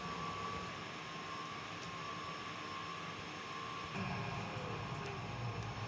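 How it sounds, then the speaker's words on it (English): An Ideal Evomax 150 gas boiler fires up after a fan change, a steady low roar and hum that steps up slightly in strength partway through as the burner catches, faint and unbroken throughout. "re-establish gas supply and then fire the boiler up"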